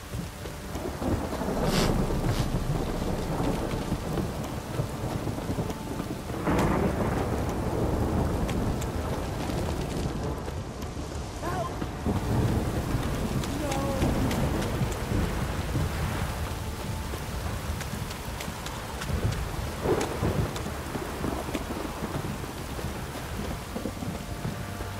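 Steady rain and rumbling thunder in The Witcher 3: Wild Hunt: a continuous broadband downpour with deep rolling thunder swells around 2, 7 and 15 seconds, heavy and close throughout with no voices.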